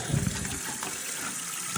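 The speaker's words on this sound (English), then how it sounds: "So turn the water on" Tap water runs into a bathroom drain being unclogged, a continuous gushing splash at moderate level that holds steady with no talking over it.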